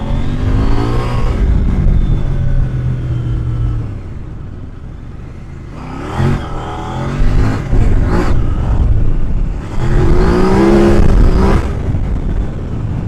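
A KOVE 800X adventure motorcycle accelerates hard, its mid-pitched engine climbing through the revs in surges with brief gear-change dips, loud and close with no voices.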